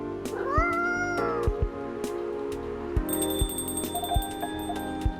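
In the café game Coffee Talk, a cat gives a single rising meow near the start, then game music carries on with a ticking beat and bright chimes, no voices.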